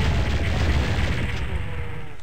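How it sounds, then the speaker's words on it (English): Rapid energy-weapon fire from a plasma rifle in PSX Doom, a dense, sustained burst of booming, buzzing blasts at steady loudness throughout, with no talking over it. "So, grab your plasma rifle and splatter that guy."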